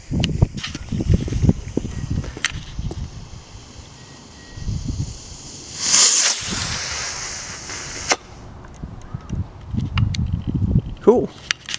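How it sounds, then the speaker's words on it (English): Gusty outdoor wind buffeting the microphone in rumbling low bursts during a backyard fireworks session with novelty items and rockets, a brief sharp crackle near the middle, and people talking intermittently. "It's too windy."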